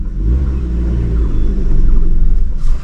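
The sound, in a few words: car engine under load, clutch released uphill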